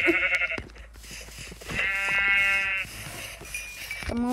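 Sheep in a video game, likely Minecraft-style, bleat several times close up, with short wavering baa calls separated by quiet gaps and faint game clicks.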